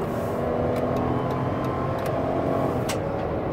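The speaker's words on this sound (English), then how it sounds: "I want to give it a hard test drive so you can hear the engine run and the transmission shift." 2013 Dodge Caravan SXT mobility van with 144k miles accelerating hard toward highway speed, a steady engine and road drone heard from inside the cabin.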